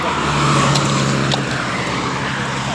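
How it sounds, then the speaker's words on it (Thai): Heavy road traffic with many cars, heard as a steady, loud roar of vehicles rolling past close by, with a couple of brief swells as cars go by. "แหมรถกำลังเยอะเลย"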